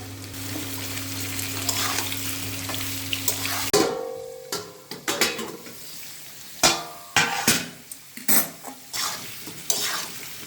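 Pumpkin pieces drop into a pot of bhuna khichuri, cutting off a steady sizzle, followed by a series of stirring scrapes and knocks of a spoon against the pot, close and clear.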